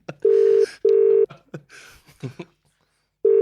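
Touch-tone phone keypad dialing a number: a few loud, steady DTMF beeps in quick succession, with brief soft voice and rustling between them.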